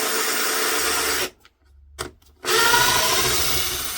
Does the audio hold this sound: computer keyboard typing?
no